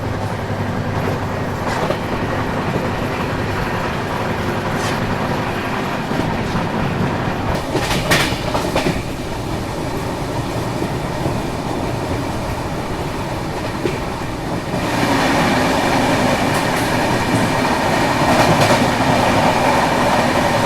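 The Prayagraj Bikaner Express runs along a single-line rail section, wheels clattering steadily over the rails with a continuous loud rumble that swells and grows brighter near the end, heard from on board with no voices.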